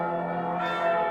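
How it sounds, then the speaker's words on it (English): A bell rings in an anime, heard as a steady, resonant ringing tone that sustains and swells slightly over about a second, with no talk. "They made that bell look good."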